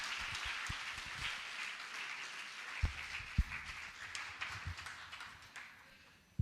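Applause from a church congregation welcoming a pastor to the stage, a broad wash of clapping with a few louder individual claps standing out, steady then tapering at the end.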